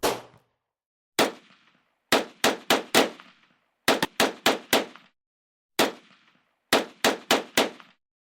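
Police officers fire a rifle and a pistol in a burst of sharp, loud, echoing shots, single reports and rapid clusters of three to five separated by short pauses, with no voices.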